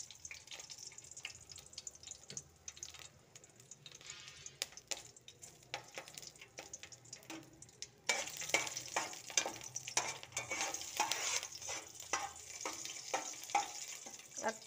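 Cumin seeds, a cinnamon stick and green chilli crackle in oil, a soft sizzle with scattered pops that jumps noticeably louder partway through and stays busy with spluttering.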